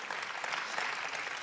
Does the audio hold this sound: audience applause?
yes